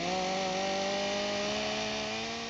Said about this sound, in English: Out of nowhere, this guy with a chainsaw came from behind and gave Dwight the nastiest backstab